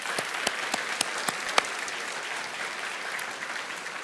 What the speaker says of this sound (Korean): 박수 한번 보내도록 하죠